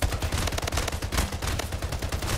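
Dense automatic gunfire in the shooter game Splitgate: fast, loud, tightly spaced shots rattle continuously for the full few seconds with no break.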